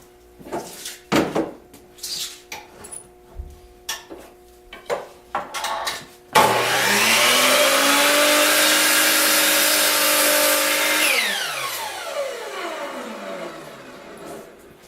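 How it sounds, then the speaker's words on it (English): A miter saw spins up and cuts through oak veneered plywood, a loud sustained whine lasting several seconds before the motor winds down, preceded by a series of clicks and knocks as the board is set. "how would it do on something that's obviously difficult to do, to cut cleanly? Oak veneered plywood."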